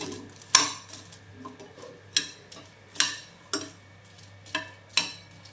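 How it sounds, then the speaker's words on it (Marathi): Green chillies roasting on a hot tawa, with repeated sharp clicks and light scraping of a spatula or utensil at irregular intervals over a low, steady background hum; close and moderately loud. "आता हलक्या मिरच्या भाजून घेऊया आपण."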